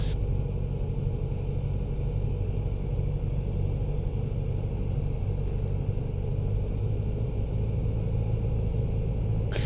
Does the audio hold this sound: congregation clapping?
no